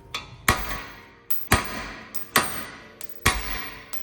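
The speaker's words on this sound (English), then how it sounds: "Grab our hammer, just kind of pound it out." A hammer pounds wheel studs out of a Celica GT-Four hub: six or seven sharp metallic blows at an uneven pace, each ringing briefly before fading. The strikes are close and loud, with no talking.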